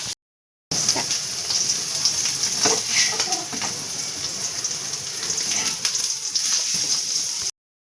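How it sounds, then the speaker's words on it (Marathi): Shallow-fried paneer is tipped into a simmering gravy and stirred, making a continuous close sizzle and wet bubbling with scattered soft scrapes for several seconds. "आता एकीकडे मी पनीर शॅलो फ्राय करून घेतलेले आहे। पनीर छान शॅलो फ्राय झालेले आहे। आता आपण याला भाजीत घालूया।"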